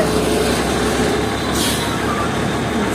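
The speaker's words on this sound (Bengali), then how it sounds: "লরিটা দাঁড়িয়ে পড়লো এখানে এসে" A lorry pulls up and stops on a street beside a home. Its air brakes give a short loud hiss over the constant rumble of the heavy engine.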